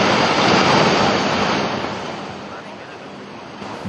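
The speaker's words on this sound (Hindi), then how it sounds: "देखिए किस तरह ये 3 से 4 मंजिला इमारत नदी में आ गिरा।" A three-to-four-storey building collapses into the flooded Bhagirathi river in Uttarkashi, India, as a heavy, broad roaring rush of crumbling debris and churning water. The roar is loudest at first, then fades gradually into the steady noise of the river.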